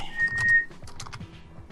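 A loud, shrill whistle cuts in for about half a second during a tabletop role-playing game session, then fades into soft clicking and low background murmur.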